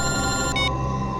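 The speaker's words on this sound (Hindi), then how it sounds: "एसीपी साहब का फोन।" A telephone rings with a bright electronic bell tone, continuous and fairly loud, its higher ringing layer cutting off partway through the short burst, with no talk.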